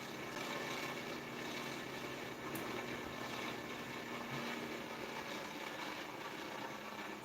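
A reed switch pulse motor with a six-magnet, three-inch rotor spins near 2,500 RPM, giving a faint, steady whirring hum with a fine even buzz throughout.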